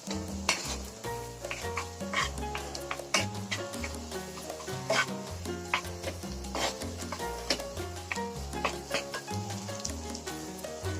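A spoon stirs mashed potatoes through a sizzling pan for kachori filling, with steady scraping and rubbing strokes over continuous frying hiss.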